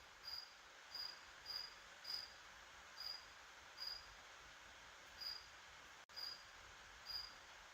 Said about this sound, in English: That doesn't even sound like a normal cricket,